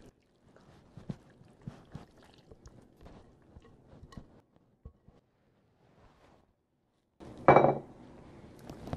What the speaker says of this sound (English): So now I'm going to dump everything in my casserole dish.